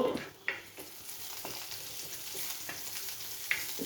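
Curry leaves sizzling in hot oil in a pan, a soft continuous crackle with a few sharper pops and stirring scrapes, fairly faint and without talk.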